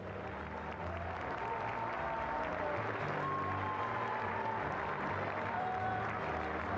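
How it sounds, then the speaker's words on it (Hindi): A large audience at Bharat Mandapam claps in a steady, sustained roar of applause that fills the hall without a break, with faint voices beneath. "आपकी तालियां रुकनी नहीं चाहिए।"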